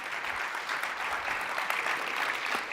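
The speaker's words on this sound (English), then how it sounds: "Let's give a massive round of applause to Cecilia one more time." Conference audience applause at a JavaScript testing summit, a brief, even round of clapping from a large room, moderately loud and unbroken.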